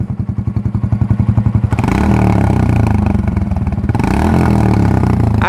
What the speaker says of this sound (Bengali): বাইকটা দাঁড়ানো অবস্থায় বেসটা আপনাদেরকে শোনাই।